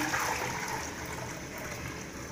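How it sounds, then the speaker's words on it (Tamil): Water is poured into a pressure cooker on a lit stove while making horsegram chutney, giving a soft, continuous splashing trickle that tapers slightly as the pour goes on. "தேவையான அளவு தண்ணி ஊற்றிக்கலாம்."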